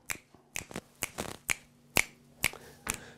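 Sharp hand claps in a guitar-class rhythm exercise come singly at an even, unhurried pulse, about one every half second. They sound close and dry, with quiet gaps between them.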